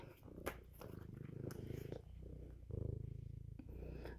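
A house cat purrs close by in a steady, rumbling rhythm after a day at the vet, each inhale and exhale cycle clearly audible in a quiet room.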